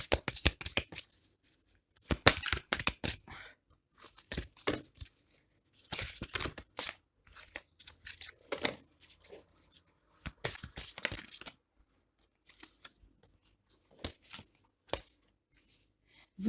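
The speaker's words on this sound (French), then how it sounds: "Après, on va tirer une autre carte sur celle-là." Oracle cards being shuffled and drawn during a women's circle card reading, a series of quick papery riffles and slaps in bursts separated by quiet pauses, close and crisp with no voice over them.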